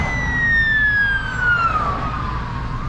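A police siren wails, sweeping downward and fading over steady truck road and engine rumble, fairly loud as if passing nearby, on a road in Germany.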